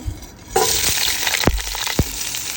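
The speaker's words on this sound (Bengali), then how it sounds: "এখানে আমি সবগুলো মশলা প্রায় পাঁচ মিনিটের মতো তেলের মধ্যে ভেজে নেব" Whole spices and meat fry in hot oil for Old Dhaka-style tehari, a loud, dense sizzle that swells suddenly and keeps going, broken by a few sharp clanks of a spoon against the pot.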